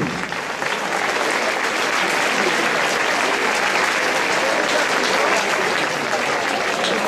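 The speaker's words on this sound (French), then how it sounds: "Vous pouvez applaudir s'il vous plaît le groupe" An audience at the Estivales de Var-Matin summer festival in La Crau applauds a band, a broad, sustained wave of clapping that swells in after a brief moment and holds steady, loud and dense.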